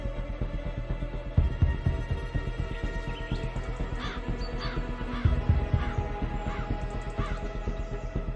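A crow caws repeatedly in short harsh bursts over a steady throbbing hum, several calls spaced across the stretch at moderate distance.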